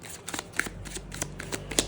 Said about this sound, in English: I don't feel like I'm going to do like a long ass shuffle